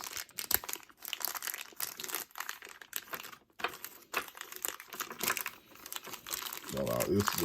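Hasbro Beyblade Burst toy packaging of stubborn plastic being cut open with nippers, giving close, dense crinkling and crackling with sharp snips, while a person talks.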